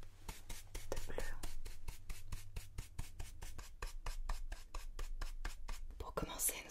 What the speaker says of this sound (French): je vais prendre un pinceau comme ceci. Je vais mélanger les différentes teintes